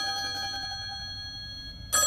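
A telephone rings in a home, a steady electronic ringing tone with sustained pitched overtones that keeps going, then cuts to a brighter, louder burst of ringing at the end.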